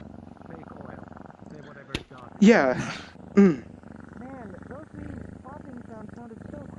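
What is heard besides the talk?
cat purring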